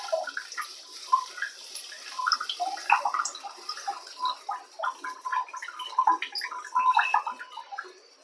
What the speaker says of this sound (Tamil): நான் அந்த தக்காளியினுடைய இதெல்லாம் எடுத்துகிட்டு வெறும் அந்த தண்ணி மட்டும்தான் ஊற்றுறேன்.